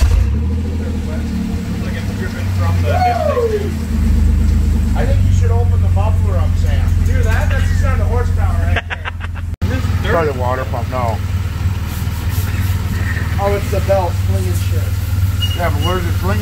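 An old $100 minivan with an open muffler and coolant and oil leaks, its engine idling loud and rough then revving in repeated short surges, heard up close under ongoing outdoor chatter between people.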